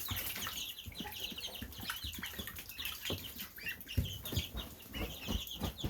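Chicks and ducklings kept together, a dense chorus of high peeping and soft clucking, close and continuous, with occasional rustling and flapping among the birds.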